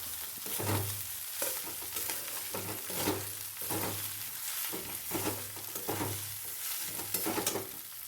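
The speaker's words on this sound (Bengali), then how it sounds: "চালটা দিয়ে দিয়ে সব সবজির সাথে খুব ভালো করে মাখিয়ে নিয়ে দু তিন মিনিটের মতো নাড়িয়ে চাড়িয়ে নামিয়ে নিলেই রেডি ফ্রায়েড রাইস" Fried rice with peas and mixed vegetables sizzles while being stirred in a pan, with repeated scraping strokes and soft knocks of a spatula at a steady rhythm over the hiss.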